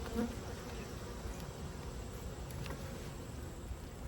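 Bees buzz around a couple of beehives, a dense steady hum of many insects close by with no voices.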